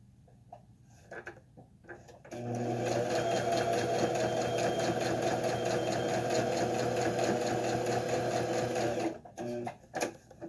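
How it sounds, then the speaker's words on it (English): A sewing machine stitches a string quilt, running steadily and loudly for about seven seconds with a fast, even mechanical whir, preceded and followed by brief clicks and handling noises. "I'm going to go ahead and sew this"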